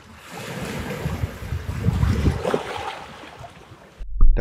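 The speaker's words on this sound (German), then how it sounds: "Das war aber jetzt eine Welle." An ocean wave surges and crashes in a rough, windy outdoor wilderness setting, a broad rushing roar building and then receding, with a sharp gust of wind buffeting the microphone at the end.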